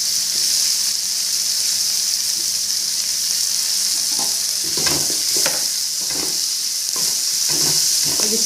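Onion and finely chopped tomato sautéing in a pan for coconut rice, a loud continuous sizzle with clattering stirs and scrapes in the second half, no talking.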